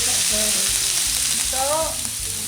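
Onions frying in melted butter in a pan for steak and mushroom medallions, giving a loud, close, continuous sizzle with faint scraping and clinks of utensils underneath.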